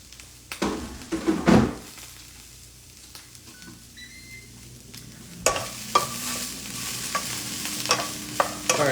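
Broccoli crisping in a hot pan for beef and broccoli, with soft sizzling broken by a few sharp utensil knocks and scrapes near the start and again later, close and moderately loud.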